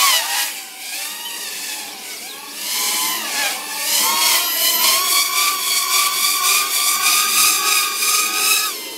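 iFlight TurboBee 120RS, a 2S micro quad drone with 1103 motors and 2540 props, whines steadily as it flies, its pitch rising and wavering with throttle changes, fairly loud and close, with no talking.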